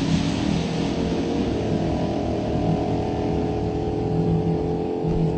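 Drag racing cars launch down the strip at an NMCA/NMRA all-star nationals event, producing a loud, continuous engine roar that holds steady and close for the whole stretch, with no talk over it.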